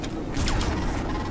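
Exploding pustules in Black Mesa: Xen give off a sudden wet, crunchy burst with a brief swishing, creaking tail, loud and close, over a steady ambient bed.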